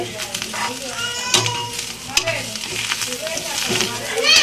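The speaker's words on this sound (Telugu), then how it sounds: "ఇంక ఇది కొంచెం రెడ్గా ఫ్రై చేసుకుంటే బాగుంటుంది." Boorelu sweets fry in hot oil with a steady crackling sizzle, broken by occasional stirring clinks and faint background voices of a child and household chatter.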